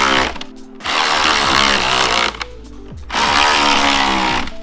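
An electric ratchet drives hardware while a front splitter is fitted to a Mk7 VW GTI, giving two long, loud whirring runs that rise and fall in pitch, separated by short pauses.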